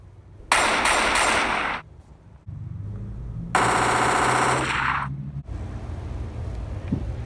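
Rapid automatic gunfire from the zombie shooter Left 4 Dead comes in two loud, dense bursts separated by a short lull, followed by quieter game ambience.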